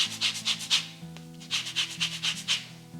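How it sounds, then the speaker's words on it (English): Half an orange is rubbed against a grater for zest in a kitchen, giving quick rhythmic rasping strokes in two bursts over a low background hum. "we're going to go in with the zest of half an orange"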